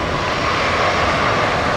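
A Royal Australian Air Force Spartan transport plane taxis in after landing on runway 19 right at Brisbane Airport, producing a loud, steady, unbroken engine roar throughout.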